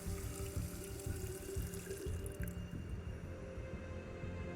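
Fuel poured into a car in the video game Don't Escape, a gurgling, glugging liquid stream with rhythmic pulses of low bubbling, close and steady before fading slightly toward the end.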